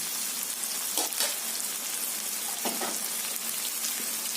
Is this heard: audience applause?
no